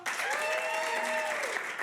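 An improv comedy show audience claps to vote between two performers, a brief burst of applause rising over cheers and whoops, with voices audible through it.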